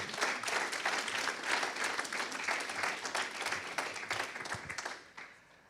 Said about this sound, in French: je vous demande une nouvelle fois de tous les applaudir